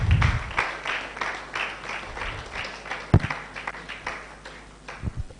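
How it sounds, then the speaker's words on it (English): Applause from a conference audience in Cape Town, a modest crowd clapping in loose, uneven rhythm, fairly quiet overall with a few sharper individual claps standing out. "another round of applause for him, please."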